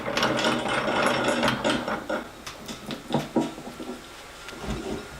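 Old sash cramps wound tight on glued boards for a woodworking jewelry box, giving a close run of dense clicking and ratcheting for about two seconds, then sparser, fainter clicks and knocks.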